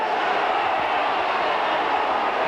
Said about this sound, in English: the crowd are roaring again for another penalty